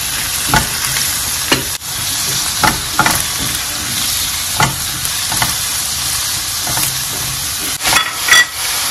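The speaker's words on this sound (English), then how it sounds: "Now that our oil has melted, we'll go ahead and add our onions" Onions frying in melted oil for a gizzard curry sauce, a steady loud sizzle throughout with repeated sharp scrapes and clatters of a utensil stirring the pan.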